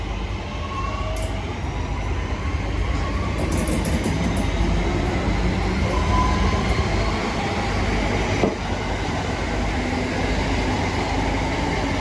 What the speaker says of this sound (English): there goes the delayed 11:05 West Midlands Railway service to Four Oaks via Birmingham New Street from Redditch